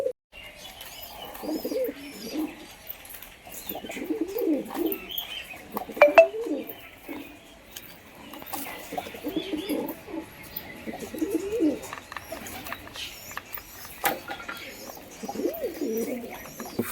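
Pigeons, a pair of breeding birds, coo in repeated soft low bursts close by, with occasional chirps and a quiet background; a person speaks briefly.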